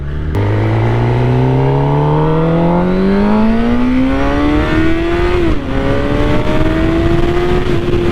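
A 2020 Suzuki GSX-R750 motorcycle's exhaust revs up close and loud, pitch climbing steadily through the gears with a brief dip at a shift before rising again.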